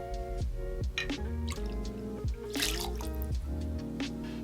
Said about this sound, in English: Next, we will add 2 ounces of our blended Scotch